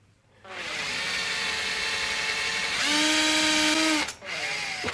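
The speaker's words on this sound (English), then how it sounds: "the drill bit will stay within the bone wall" A steady, high-pitched power drill whine runs for several seconds as the bit bores into bone, rising in pitch briefly near the end before a short pause and restart.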